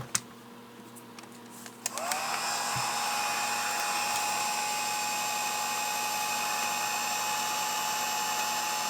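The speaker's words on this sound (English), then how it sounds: "It's a very high temperature heat gun, which will burn your hands." After a couple of seconds a high-temperature heat gun switches on and runs steadily, heating a GPS touch screen, a loud blowing hiss with a high electric whine.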